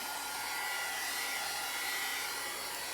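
A hair dryer blows steadily for a few seconds while drying a fresh coat of paint on an old canvas decor piece, a constant close whooshing hiss with no voices.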